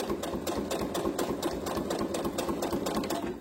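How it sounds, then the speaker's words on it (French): A sewing machine backstitching over an earlier seam on a fabric scrunchie, a steady fast rattling hum with rapid needle clicks, close and continuous with no talking. "je vais recoudre par-dessus ma précédente couture pour que ça bloque"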